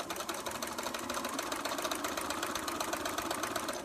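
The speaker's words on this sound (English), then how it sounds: "I get it on the other side of the machine, and I'm going to sew" A sewing machine stitching fabric seams while sewing canoe-pattern quilt pieces, running at a steady fast whir with even mechanical chatter, close and continuous throughout.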